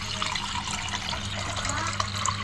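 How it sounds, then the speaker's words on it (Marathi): Water pours continuously into a pot for making tea, a close, steady splashing stream lasting the whole moment. "अंदाजे पाणी टाकू"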